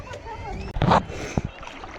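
People bathing in a village river churn the water, giving a loud close splash with a second short slosh after it, over a steady background of voices.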